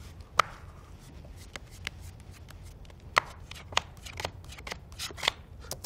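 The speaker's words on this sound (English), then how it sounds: "That's a false shuffle." Crisp snaps and riffles of playing cards in a false shuffle, a few sharp clicks spaced irregularly over a soft background hum, close and moderately quiet.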